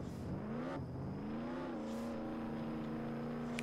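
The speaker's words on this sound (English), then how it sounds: "Well, I'm just driving in circles pretty much." Engine whine of a car in Roblox Jailbreak circling steadily, a faint sustained hum that rises and bends in pitch as it turns, with no voices.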